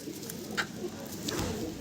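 Madrasi pigeons coo softly at close range, a couple of low murmuring calls over a constant background hum.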